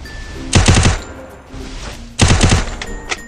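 Loud, close automatic gunfire in a mobile shooter game, fired in two rapid bursts of about five shots each with a short gap between them, followed by a faint single click.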